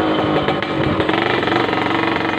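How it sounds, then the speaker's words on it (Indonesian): A Kawasaki Ninja 150 motorcycle engine runs close and loud with a steady, buzzy two-stroke idle pulse and slight rhythmic flutter, no talking over it. "Kalau buat mesin bro, motor ini masih halus ya."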